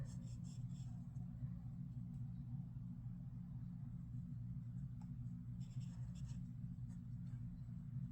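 Marker coloring a sweater on a paper Christmas card, using the fine nub tip, faint scratchy strokes in short bursts over a constant low rumbling hum.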